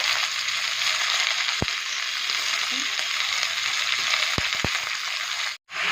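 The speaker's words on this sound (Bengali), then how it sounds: "এইভাবে কিন্তু সবজিগুলো ভালো করে ভেজে নেবেন" Vegetables frying in a pan for sambar, a steady close hiss of sizzling oil with a few sharp spoon taps against the pan, ending in a brief silent gap.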